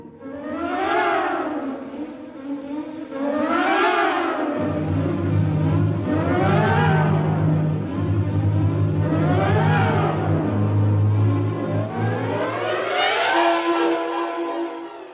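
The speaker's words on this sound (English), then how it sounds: "Somehow the engine coughed and spit us back to the station." An engine runs steadily as a radio drama sound effect while high wind howls over it in rising and falling gusts, loud and continuous, with the motor's drone entering partway through and holding beneath the wind.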